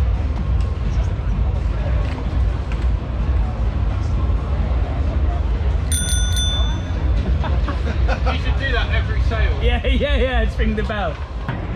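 A bicycle-style bell fitted to a Honda Ruckus scooter rings once, a brief bright ding in the middle of busy background noise and people talking.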